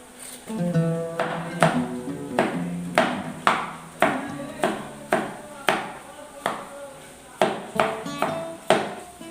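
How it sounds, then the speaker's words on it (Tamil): A coconut is struck again and again with a hard tool, about a dozen sharp, loud cracking knocks landing at a steady pace, each ringing briefly, while cooking for a mutton gravy goes on nearby. "இன்னொரு சைடு வந்து தேங்காய் உடச்சிக்கிட்டு இருக்கேன்"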